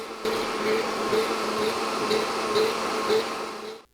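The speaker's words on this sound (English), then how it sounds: "blend until super smooth, about 1 minute" A blender whirring steadily as it blends chocolate mousse, a constant close motor hum lasting several seconds before cutting off.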